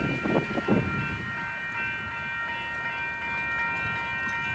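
Union Pacific manifest freight train rolling through a level crossing with its signals activated, a steady broad rumble of railcars with a few louder knocks early on and a held tonal ringing over it, loud and continuous.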